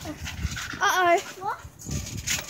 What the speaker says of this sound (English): And the dog's out again.